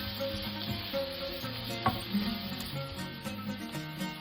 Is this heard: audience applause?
no